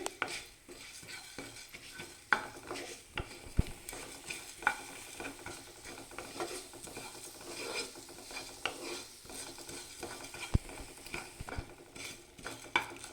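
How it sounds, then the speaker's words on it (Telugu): Fenugreek, coriander and cumin seeds frying in a small amount of oil while being stirred, with a steady soft sizzle broken by scraping and light clinks of a spoon against the pan. "ఒక పావు టీ స్పూన్ అంత మెంతులు అలాగే ఒక స్పూను ధనియాలు ఇంకా ఒక స్పూను జీలకర్ర వీటిని కూడా ఫ్రై చేసుకోవాలి"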